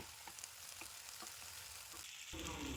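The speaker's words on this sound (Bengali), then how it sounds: "আর এখন আমি দিয়ে দিলাম একটা টমেটোর কুচি, দিয়ে আবারও ভালো করে নেড়েচেড়ে একটু ভেজে নিতে হবে।" Chopped tomato with ginger and garlic paste fries for ghugni, giving a steady close-up sizzle broken by soft scraping as it is stirred, and the sizzle grows louder near the end.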